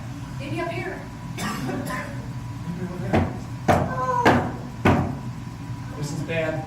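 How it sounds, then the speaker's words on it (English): Doors opening and closing on their own inside a house, heard as several sharp wooden knocks and bangs spread through the stretch, with people talking softly underneath. "Got doors that open and close by themselves"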